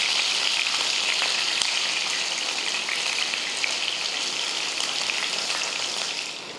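Fish pieces frying in hot oil in a pan for a fish pepper fry, a steady, loud, broadband sizzle with fine crackling pops that holds evenly throughout and fades slightly at the very end.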